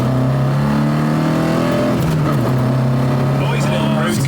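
A Talbot Sunbeam Lotus engine revs hard toward the red line on a road, a loud steady droning note that shifts in pitch midway, heard from inside the car with occupants talking over it.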